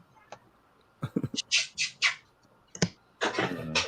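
Pet birds in a home squawk in a burst of harsh, close calls, a few scattered chirps first, then several loud squawks in quick succession, a pause, and another loud volley.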